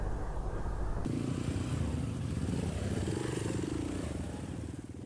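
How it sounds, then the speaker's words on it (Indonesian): A combine harvester works a rice field during a large harvest in Anjir Pasar, Indonesia. Its loud, continuous engine drone and mechanical clatter run steadily throughout, close by, with no talking. "alat mesin kombain."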